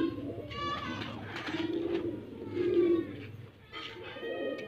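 Pigeons cooing in soft, throaty bursts close by, with faint voices murmuring in the background.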